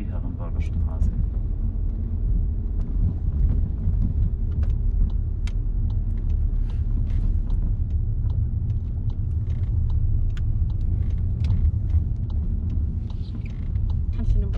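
A car moves through a left-hand curve onto Herrenberger Straße during a driving lesson, its steady low engine and road rumble continuous and close throughout.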